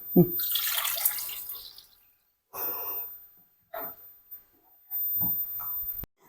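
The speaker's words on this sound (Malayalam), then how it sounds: "ഒരു ബൗളും കൂടി എടുത്ത് ഒഴിച്ചു നോക്കാം" Water pours from a bowl in a broad splashing rush for about two seconds, followed by shorter splashes and trickles with pauses between them.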